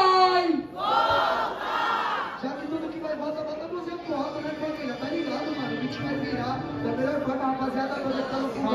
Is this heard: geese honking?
no